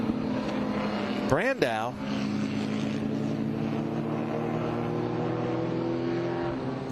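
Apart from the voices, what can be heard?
air-cooled Porsche race car passing on track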